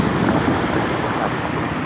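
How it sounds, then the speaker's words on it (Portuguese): Strong floodwater rushes over a submerged road crossing, a loud, dense, continuous roar of turbulent water with wind noise on the microphone and no talking. "A água com muita força passando aqui em cima."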